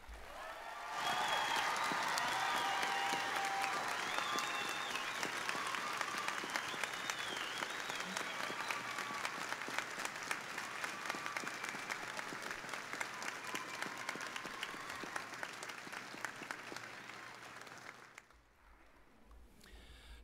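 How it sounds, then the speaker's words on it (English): A large graduation ceremony audience bursts into sustained applause, a dense, steady roar of many hands clapping with light crowd noise, lasting about seventeen seconds before trailing off abruptly. "Let's give them a round of applause and thank them for their outstanding efforts."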